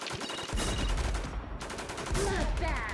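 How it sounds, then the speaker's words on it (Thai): MK rifle fire in a shooter video game crackles in rapid, loud bursts, with a brief pause midway before the shooting resumes close by. "ใครยิงจากไหนวะเมื่อกี้เอ็มเค"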